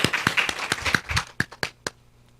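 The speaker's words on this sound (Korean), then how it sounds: "하나님께 영광의 박수 올려드립니다." A church congregation claps in praise to God, a dense burst of hand claps that thins out into a few scattered, separate claps near the end.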